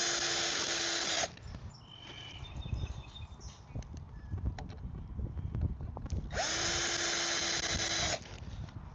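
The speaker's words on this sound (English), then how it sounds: "Let's get our screws in." A power drill drives screws into a wooden sandbox bracket in two loud whining bursts, one at the start and one near the end, with quieter handling knocks and shuffling between them.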